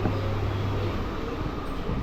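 An empty passenger train on the Kolkata to Gede line, near Gede station, rolls along with a continuous low rumble and rattle heard from inside the carriage, steady and moderately quiet.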